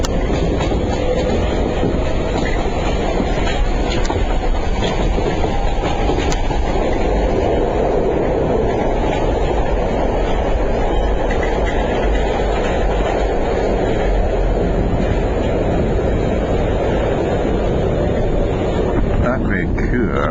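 Continuous loud rumble and rushing wind noise of an RER express commuter train to Charles de Gaulle airport, steady throughout with no clear voices.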